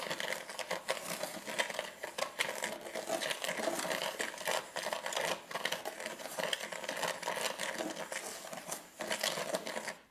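Wet gold-sluicing paydirt is stirred and mixed, giving a continuous close gritty churning and crunching with rapid irregular scraping textures throughout.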